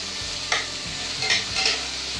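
Half a spoon of ginger paste frying in a pan, a constant close sizzle with a few sharper stirring scrapes of a spoon against the pan, no talking.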